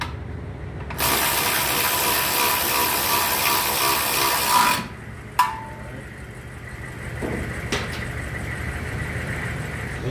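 A ratchet tightens a brake caliper bolt on a 1992 Honda Civic EG during a rear disc conversion, a loud rapid clicking run for several seconds, then a sharp clank and a few lighter taps.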